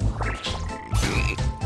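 A cartoonish frog croaks repeatedly in the video game Battleblock Theater, with several croaks in a quick irregular rhythm. The croaks are fairly loud and stand alone, with no talk over them.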